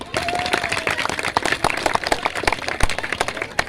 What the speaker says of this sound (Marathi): तरी आपण एकदा त्यांच्या टाळ्या वाजून स्वागत करूया.